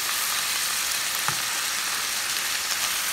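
Chopped mushrooms and peppers fry in oil with onion while being stirred, a steady close sizzle and crackle with occasional soft scrapes of the spoon, no talking.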